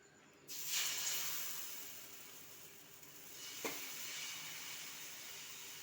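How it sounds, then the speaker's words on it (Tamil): Dal dosa batter sizzles on a hot oiled pan, a steady bright hiss that swells as the batter hits the metal and keeps going, close and alone with no voices. "இப்போ எண்ணெய் துணி போட்டு தேய்ச்சிட்டு தோசை ஊற்றலாம் நம்ம."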